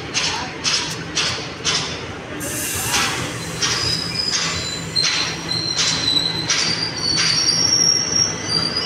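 A crowded passenger train on the way to Tirupati rolls along with loud, sustained wheel squeals and rhythmic rail clatter, while voices chatter faintly beneath.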